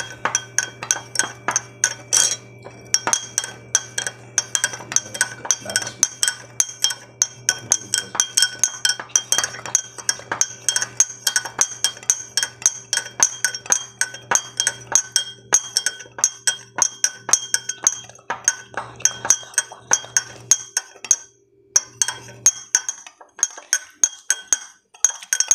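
A spoon stirs water with sugar and salt in a glass, rapid, rhythmic metallic clinks ringing against the glass for a long stretch, close and bright, before briefly stopping and resuming.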